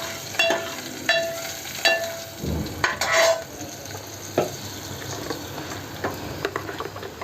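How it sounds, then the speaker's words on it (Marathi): Garlic, onion and curry leaves frying in oil with a steady sizzle, broken by sharp clinks of a spoon stirring against the pan, close up and without voices. "लसूण आणि कांदा आणि कढीपत्ता हे चांगलं आपण परतून घ्यायचं"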